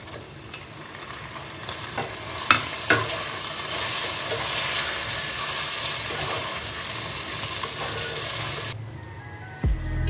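Chicken pieces hit a pan of frying masala for a Bengali-style corn and chicken pulao, sizzling steadily under scraping stirs and a couple of sharp utensil knocks. The sizzle then cuts off, followed by a single thump.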